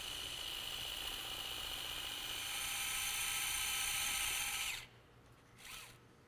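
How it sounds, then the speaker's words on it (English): A secondary VIP reamer for a dental implant grinds steadily as a high-pitched drill whine, running continuously for nearly five seconds before cutting off, followed by a brief faint whir. "Next we'll use our secondary VIP reamer, and this will ream until there's a positive stop."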